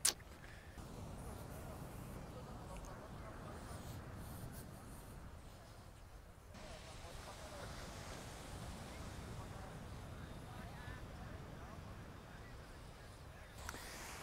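Ocean surf rolls onto a sandy beach in a continuous broad wash, loud and steady with gusts of wind noise over the microphone.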